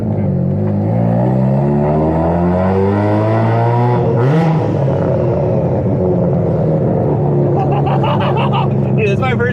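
Inside a Mazda RX-7 FD, the rotary engine climbs hard through the revs in rising sweeps, drops at a gear change, then pulls again loud and close, with occupants talking over it.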